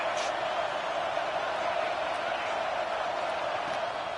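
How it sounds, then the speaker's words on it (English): A football stadium crowd at a college game between Ole Miss and UCLA keeps up a dense, continuous roar, loud and unbroken from start to finish. "this crowd is at fever pitch"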